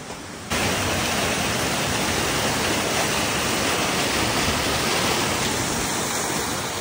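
Loud, steady rushing of a river flowing beside a mountain trail near Dharan, Nepal, a continuous broadband roar that starts abruptly after a brief quieter moment and holds evenly throughout, with no voices.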